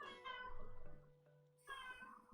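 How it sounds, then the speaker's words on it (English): A pet cat named Val meows in a quiet room, its drawn-out calls standing out clearly at close range with no talk over them. "that's my cat."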